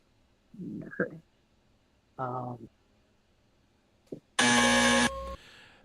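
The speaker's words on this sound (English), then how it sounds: "That was after the buzzer" A harsh electronic game show buzzer blares once, loud and sustained for about half a second, after a few short bursts of voices during a trivia question.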